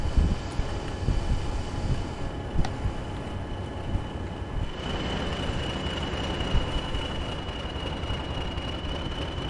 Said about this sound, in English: I can hear a class 20 somewhere.